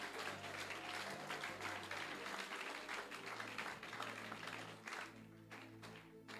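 A church congregation at a Sunday service claps together in a sustained burst of applause, with a steady droning tone under the clapping and some voices mixed in.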